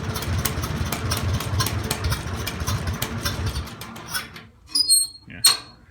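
A Farmall Cub tractor engine idling at its lowest throttle notch puts out a steady low putter that fades out after about four seconds, followed by a few faint squeaks and knocks.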